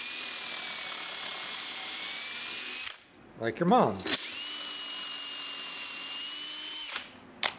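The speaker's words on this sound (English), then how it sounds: "I slide this guide over, drill it twice more" Power drill boring holes in wood for a furniture leg in a woodworking shop, two long steady whines separated by a brief burst of speech, loud and close.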